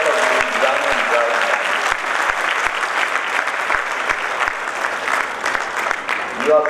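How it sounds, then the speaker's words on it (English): Sustained applause from the audience at a university convocation ceremony honouring graduates, a dense, steady wash of many hands clapping that stays loud and even throughout, with a few faint voices underneath. "May I ask you all present here to put your hands together to applaud the success of these young and bright"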